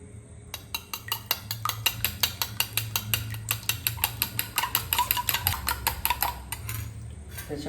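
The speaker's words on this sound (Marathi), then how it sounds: "तर हे आता आपण फेटून घेऊया" Eggs are whisked in a bowl with rapid, rhythmic clinks of utensil against the bowl, several strokes per second. The sound is steady and close.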